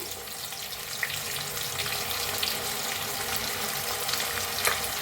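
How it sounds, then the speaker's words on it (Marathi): Green peas and capsicum dry-roasting in a pan for a mixed vegetable dish, producing a steady, dense hiss of frying that holds even throughout, fairly loud and close with no speech. "ह्याच्यातच वटाणे बी भाजून घेऊया। शिमला मिरची,"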